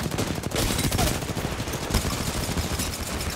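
Rapid automatic gunfire in Apex Legends, a steady stream of sharp shots rattling continuously over a busy battle din, close and fairly loud with no clear speech.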